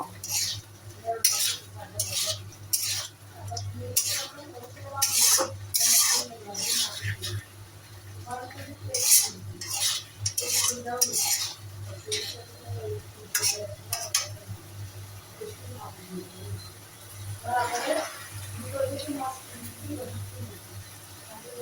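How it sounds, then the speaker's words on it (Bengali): Fried shing (stinging catfish) pieces being stirred into a cooked spice masala in a pan for a bhuna, with repeated scraping and clinking of a utensil against the pan and a faint sizzle, and a steady low hum underneath. "ভাজা মাছগুলো দিয়ে সুন্দর কষাবো।"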